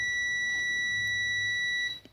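A steady high-pitched electronic beep from a multimeter continuity test on an electrolytic capacitor sounds continuously for about two seconds, then cuts off abruptly.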